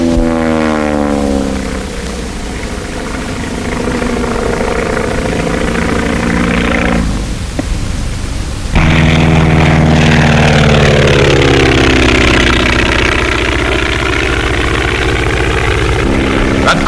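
A stunt airplane's propeller engine flying loops and Immelman turns at a 1931 air show, droning loudly and continuously with its pitch rising and falling as the aircraft swoops, briefly dipping before surging louder.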